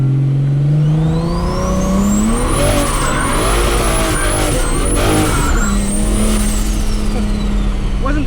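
Welded-differential daily driver car drifting hard into a corner, loud engine revving and rising in pitch with a sustained tire squeal across the middle, then the engine note settling as it exits.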